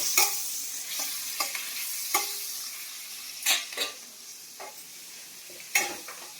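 Food fries in a pan with a soft, steady sizzle, punctuated every second or so by crisp scraping and clinking strokes of a spatula stirring it, close by.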